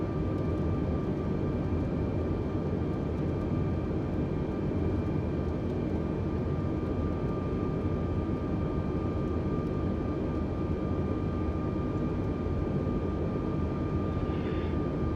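An airliner's engines in Microsoft Flight Simulator on approach, a steady droning hum with faint tonal whine, constant and unchanging throughout, no speech.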